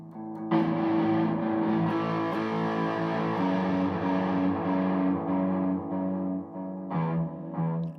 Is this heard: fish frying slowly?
no